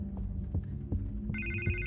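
Telephone ringing in a Batman video game, a muffled repeating ring with low throbbing pulses under a steady hum, then a brighter electronic tone enters near the end.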